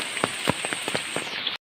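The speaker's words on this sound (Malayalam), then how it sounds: "വെള്ളം തെറിക്കുന്നത്." Water splashing and dripping during heavy rain while walking barefoot outdoors near a flooded stream, a steady wash of rainfall broken by repeated close splashes and drops.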